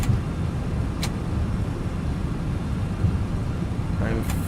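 MD11 airliner thrust reversers roaring during landing in a flight simulator game: a steady, loud, broad rumble that holds throughout with a couple of brief higher clicks on top.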